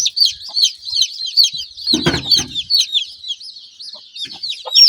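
Close, constant high peeping comes from a hen's newly hatched chicks, cold and trembling on a small poultry farm, with a short burst of lower, rougher hen clucking breaking in around the middle.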